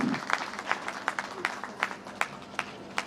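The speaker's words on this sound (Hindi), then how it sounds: "जोरदार तालियों से स्वागत" Audience applause at a Hindi magazine launch and award ceremony, a steady wash of clapping from a seated crowd with sharper individual claps standing out, sustained through the whole stretch at moderate loudness.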